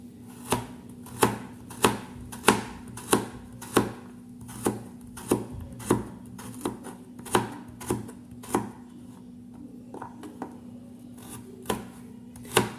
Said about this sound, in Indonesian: lalu kita potong kacang panjang dulu